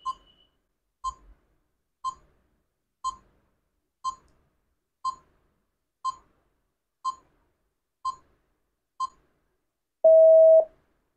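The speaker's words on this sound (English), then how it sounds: "here goes a 10-second timer" A countdown timer beeps ten times at steady one-second intervals, each short clear tone alone in silence, ending in a longer, louder final tone.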